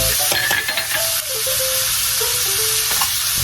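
Cajun chicken pot pie filling with minced garlic fries in a pan, giving a loud, steady sizzle close by, with a few stirring scrapes and clinks on top.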